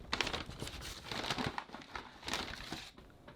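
Crinkling and rustling of a Five Guys paper fry bag with extra fries loose in the bottom, close up and continuous, with a few sharper crackles through the stretch and no voices.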